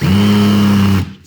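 A handheld twist drill spins up against a Honda Accord, giving a loud, steady motor whine for about a second before it cuts off abruptly.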